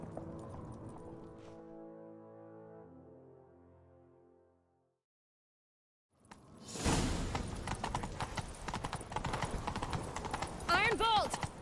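Horse hooves galloping in The Witcher 3: The Wild Hunt, a loud, busy clatter of a mount in pursuit that bursts in after a short silence, mixed with game sound and voices.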